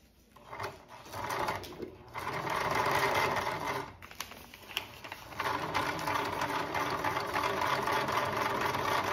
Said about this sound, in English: now I'm gonna take it over to the sewing machine.